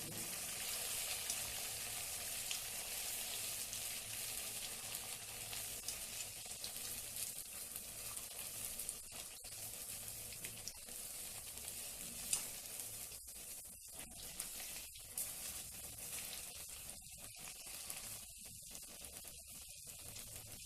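Sabudana vadas coated with rajgira flour deep-frying in hot oil, giving a continuous bright bubbling sizzle for the full stretch, with a few brief dips and scrapes toward the end and no one talking.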